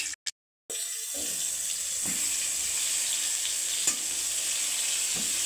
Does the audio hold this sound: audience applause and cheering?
no